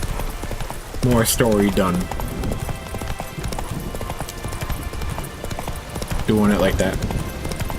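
The horse Roach trots in The Witcher 3 with steady, close hoof clip-clops throughout. Someone talks over it in two short bursts.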